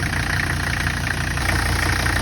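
A 1985 Mercedes 300 D turbo diesel idles steadily close by, a constant loud low rumble with an even knocking rhythm and no voices.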